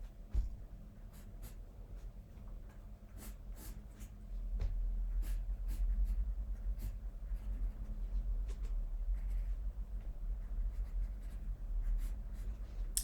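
Graphite pencil scratching across paper while sketching the oval of a figure's thigh in a life drawing, a steady close run of soft strokes with small taps, heavier from midway on, no talking.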